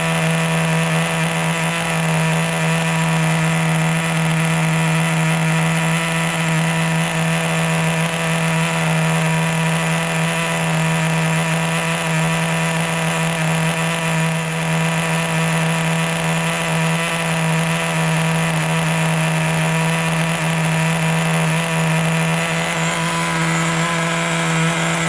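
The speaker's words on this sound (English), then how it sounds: "pre-revving it like that is really not good for the motor" A Traxxas T-Maxx 2.5 nitro RC truck engine screams at high revs, a loud, constant, buzzing drone held steady and close for the whole stretch, with no talking.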